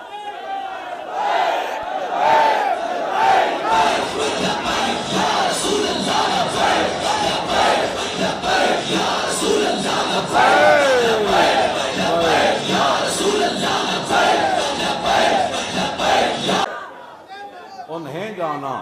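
A large crowd at a religious gathering chants the Labbaik Ya Rasool Allah slogan in loud, sustained unison, voices swelling and rising in waves before cutting off near the end.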